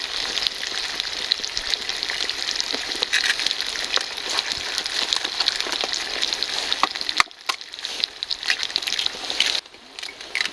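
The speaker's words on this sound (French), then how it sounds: "C'est ma bougie qui pète comme ça. Ouais, c'est l'huile du bois gras." Resinous fatwood candle crackling and popping at close range in a cave bivouac, a dense, steady spitting hiss with rapid sharp snaps, dropping out briefly twice near the end.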